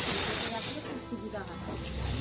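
Pressure cooker with meat cooking inside releasing a loud steam hiss that tapers off after about half a second, leaving a lower background hiss and kitchen noise.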